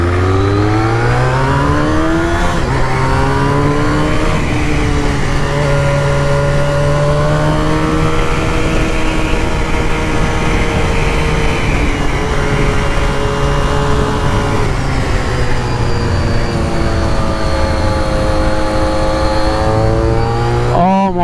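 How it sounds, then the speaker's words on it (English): A Honda RVF400 motorcycle engine revs up and holds high, loud and close, with a whining gear-driven cam note riding over the exhaust roar. "the gear-driven cams, which give you that whine higher up in the revs"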